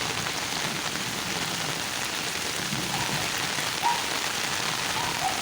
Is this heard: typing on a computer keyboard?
no